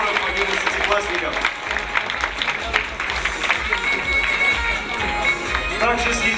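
An audience in a hall applauds prize winners at the closing ceremony of a national school chemistry olympiad, with sustained, even clapping from a large crowd and a low murmur beneath.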